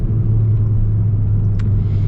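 A 2026 Kia K5 GT with a turbo engine gives a steady, deep rumble from inside the car while under acceleration, heard close and without speech.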